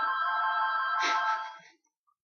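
A phone ringtone plays steadily as a sustained electronic melody, fairly loud and close, then cuts off abruptly with no talking over it.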